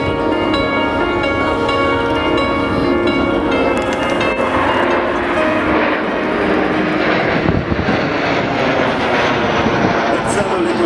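Patrouille de France jet aircraft at the Leuchars Airshow in 2011, a loud steady roar as the jets pass overhead, with a commentator speaking over the engine noise.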